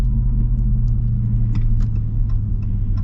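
Supercharged Hellcat V8 of a high-mileage Ram TRX pickup rumbling while driving, a deep, loud, steady low drone from inside the cab with faint rattles and ticks over it, no voices.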